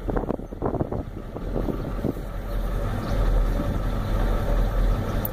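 A 1993 Ford F-250 with a 7.3L IDI diesel and eight new injectors runs rough and shakes: a loud, continuous low rumble heard close up with gusty wind noise over the microphone, growing heavier toward the end.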